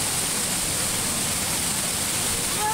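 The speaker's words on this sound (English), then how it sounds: "It's the waterfall." Steady roaring rush of falling water at DeLeon Springs, dense and constant throughout, with no other sounds standing out.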